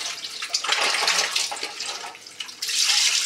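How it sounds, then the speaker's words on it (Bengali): Running tap water splashing over hands being washed, a loud close rushing stream that dips briefly then surges again. "হাতটা না ধুলে হবে না।"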